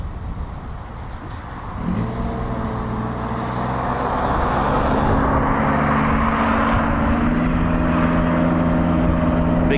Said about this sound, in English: The C-47.